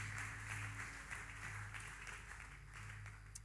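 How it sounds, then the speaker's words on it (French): A church congregation applauds together after a preacher's call, a steady wash of many hands clapping at moderate distance, continuous and even throughout, with low hum underneath and no clear talk. "Est-ce qu'on peut applaudir l'œuvre qui est en train de se passer ici à Philandégénie?"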